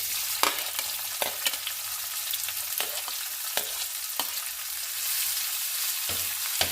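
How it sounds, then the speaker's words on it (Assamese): Onion, dried chili and bay leaves sizzle in hot oil in a pan, a continuous crackling fry broken by sharp stirring clicks and scrapes at irregular intervals. "মই ইয়াতে পিঁয়াজ, শুকান জলকীয়া আৰু দুখিলা তেজপাত দি দিছোঁ।"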